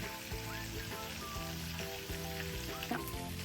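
Onions fry in a pan with cashews, ginger and garlic, giving a steady close sizzle with light stirring scrapes that carries on without a break and no talking.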